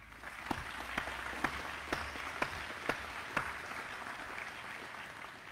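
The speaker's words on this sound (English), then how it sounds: "Let's give them a round of applause." Faint, distant crowd applause at a Georgia National Guard change of command ceremony, with a few sharper claps standing out at a steady rhythm.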